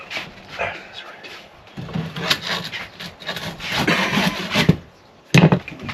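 A small tenon saw cuts through wood during a roof renovation. Uneven rasping strokes, some loud and some soft, come in irregular bursts with short pauses. Voices are faintly audible in the background.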